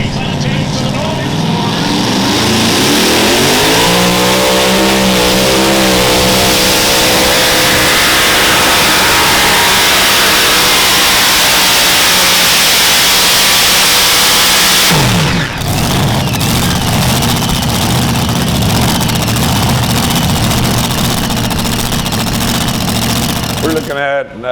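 Multi-engine modified pulling tractor with a 2239 cubic inch Griffin engine, two 140 mm turbochargers and 6-inch exhaust, revving loud and continuous at a tractor pulling championship, rising and roaring throughout with crowd and announcer voices underneath.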